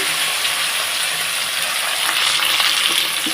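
Taro pieces dropped into hot oil with cumin and bay leaf in a pan, giving a loud, continuous frying sizzle with faint stirring scrapes and no talk.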